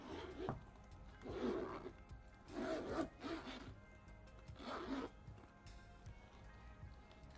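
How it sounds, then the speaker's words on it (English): Zipper being pulled open on a fabric desk pouch, several separate rasping strokes in bursts, close and fairly quiet, with no talking. "For the zippers, this may be a bit loud."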